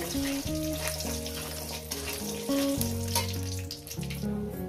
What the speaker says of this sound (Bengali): এরপর এই তেলের মধ্যে দিয়ে দেবো বড়ি। বড়িগুলো আমি ভেজে নেব।